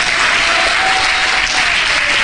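A church congregation applauds loudly and steadily, a dense wash of many hands clapping without pause from start to finish, with a faint sustained tone running underneath.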